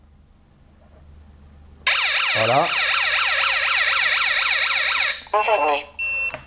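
A loud electronic home security alarm siren from an ABTO alarm kit wails in rising and falling sweeps for a few seconds, then short chirping bursts follow. A voice speaks briefly near the start, announcing an intrusion, triggered by a door sensor.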